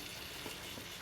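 Chicken curry masala with onion, garlic and tomato frying in a pan, a faint steady sizzle with a sharper crackle near the end, no voices.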